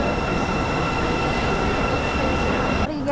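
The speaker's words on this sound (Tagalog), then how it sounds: "Train." A train in London rumbles loudly and steadily up close, with the wheel and carriage roar dropping away sharply just before the end.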